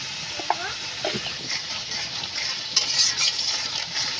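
Chili and turmeric powder fry in a little oil with salt, sizzling steadily while a spoon scrapes and stirs in short, irregular strokes, with a brief voice fragment near the start.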